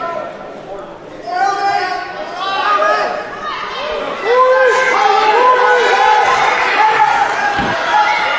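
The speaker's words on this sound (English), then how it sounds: "And the crowd really getting into it here as Lance Hobbs able to grab a hold of his fo" Crowd noise at a high school wrestling match between Liberty and Memorial, rising and swelling into steady cheering and chatter through the clip, with bursts of shouting and a sharp thump near the end.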